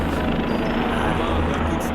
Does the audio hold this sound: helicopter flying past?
yes